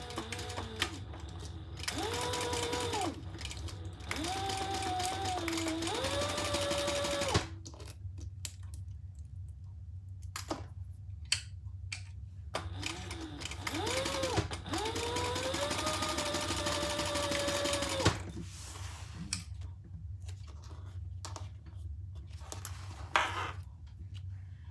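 A sewing machine top stitches a crossbody bag in long runs whose motor pitch rises and falls with speed, broken by pauses filled with clicks and handling noise, close and steady.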